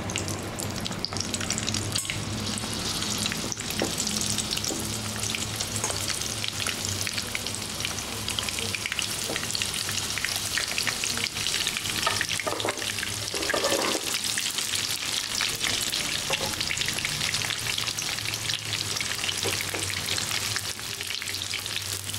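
Gooseberries frying in hot ghee over medium heat for sweet amla murabba, giving a steady, dense sizzle and crackle that runs unbroken throughout, close and fairly loud, with no voices.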